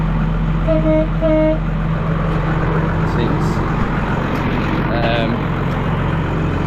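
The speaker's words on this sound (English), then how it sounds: "I've put air horns on this as well" Two short air-horn toots in quick succession near the start, then another brief honk later, from a Case vehicle towing a trailer, over a steady engine rumble and loud outdoor noise.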